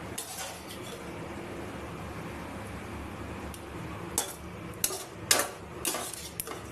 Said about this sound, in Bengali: এবার আমি একটা পাত্রের মধ্যে ঢেলে নেবো।